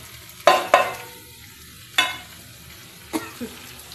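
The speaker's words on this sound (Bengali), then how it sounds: "এবার আমি আলু ভাজার আলুগুলো তেলের মধ্যে সব দিয়ে দেবো" Oil crackles and sizzles as potato pieces drop into a hot pan, with several sharp bursts spaced apart and a quieter sizzle in between.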